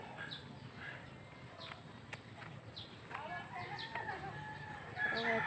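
Chickens at a backyard coop, with repeated faint clucks and rooster crowing at a moderate distance over steady outdoor background noise, with a person talking nearby.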